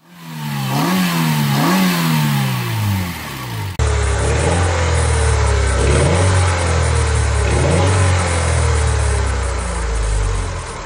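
A Honda Del Sol's VTEC inline-4 engine revs up and down twice, rising and falling sharply, then settles into a steady, loud, droning run with a low throbbing undertone.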